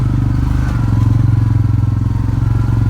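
A Massimo/Hisun 700 UTV side-by-side engine drones loud and close on a woodland trail, a steady pulsing rumble with slight clatter throughout.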